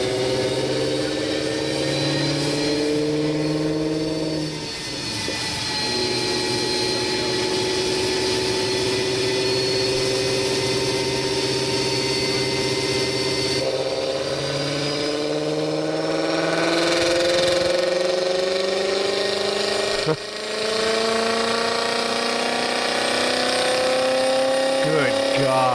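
A car engine runs on a mobile dyno, giving a sustained loud drone whose pitch rises and falls through several sweeps, with brief dips in level near the start and again around twenty seconds in.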